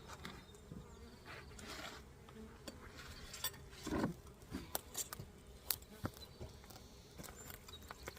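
Honey bees hum steadily around an opened backyard hive during a spring check, with a low continuous drone and scattered clicks and knocks from handling the woodenware.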